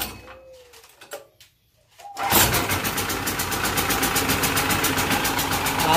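A Sumura ET4000L generator's engine is pulled over with a few quiet tugs and sputters, then catches and settles into a loud, steady, close idle that runs to the end.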